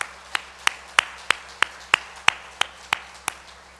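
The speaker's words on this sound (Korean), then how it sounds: "우리 박수하겠습니다." Sharp, evenly spaced claps, about a dozen in under four seconds, from a church congregation welcoming a new member at a Sunday service, with a low steady hum underneath.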